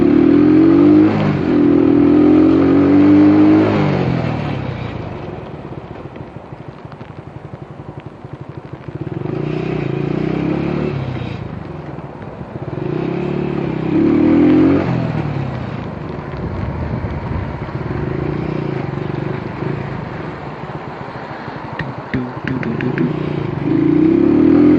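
A motorcycle engine revs and surges through a night ride, loud and close, rising and falling in repeated bursts of acceleration with wind noise between.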